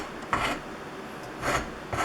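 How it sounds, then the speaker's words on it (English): A disc sander rounds the top of a petal on a wooden lathe-turned flower, heard as three short rasping grinding bursts separated by quiet gaps. "A disc sander works. So we're sort of rounding the top of the pedal here."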